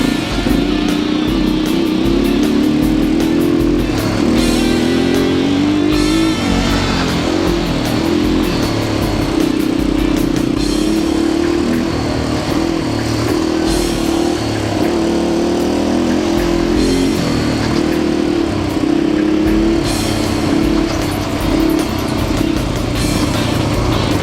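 A dirt bike tears along Hungry Valley's Backbone Trail with the throttle held wide open, its close, loud engine droning continuously and rising and falling with shifts and bumps.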